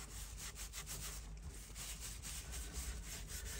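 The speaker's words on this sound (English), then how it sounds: "I'm using an alcohol cleaner to do this at this moment in time, purely and simply because I want it to degrease as it goes" Steady scrubbing and rubbing as an alcohol cleaner is worked over a Jaguar XK8 leather steering wheel to degrease it, a close, continuous friction sound with quick repeated strokes and no talk.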